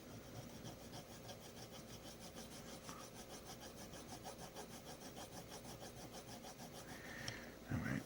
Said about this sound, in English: I'm really scrubbing it more than I normally would